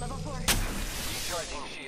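Gunfire in the Apex Legends battle royale game: one sharp loud shot, followed by a dense, continuous rumble of game action and effects, with faint voices underneath.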